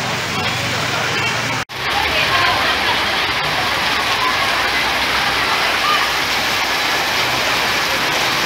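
Unseasonal rain falls on an open market, a steady loud hiss of drops with a brief dropout early on, while a voice speaks over it.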